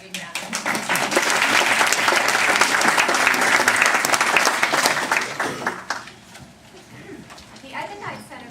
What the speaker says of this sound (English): So now we can give them a big round of applause.